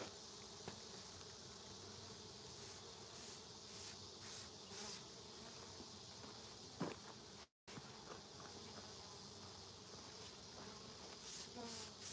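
Honeybees from a trap-out on a 200-year-old cedar tree make a dense, continuous buzzing close by, with individual bees whining past now and then throughout.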